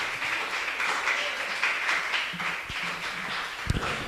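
A church congregation claps together in sustained applause for the Lord, with a few louder low thumps near the end and no speech.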